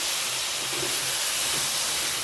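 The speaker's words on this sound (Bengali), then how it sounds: "তো চলো মশলাটাকে ভালো করে আমি কষিয়ে নিই।" Masala spice paste frying in oil in a pan for a magur catfish curry, a steady loud hiss and sizzle running unbroken throughout with no talk.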